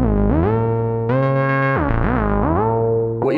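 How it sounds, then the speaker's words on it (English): A buzzing Atlantis synth voice fires a sequence from a Metropolis sequencer, its pitch stepping and sliding between held notes with a bright, gritty, distorted edge. It sounds loud and up close. "what you're hearing here is the Atlantis being fired off by the Metropolis."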